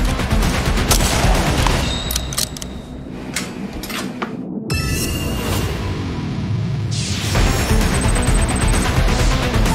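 Loud, close gunfire from a bolt-action sniper rifle: several sharp, booming shots land in quick succession, each followed by a brief echo.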